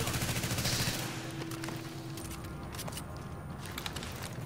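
Gunshots in the shooter game The Division come as rapid, dense crackling bursts, loudest at first, then a thinner scatter of shots over a constant rumble of game noise.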